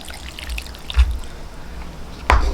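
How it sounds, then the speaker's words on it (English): Won ton soup poured into a heat-holding takeout container, a close, soft liquid trickle with a brief splash near the start and a louder slosh toward the end. "And we'll pour the soup in here."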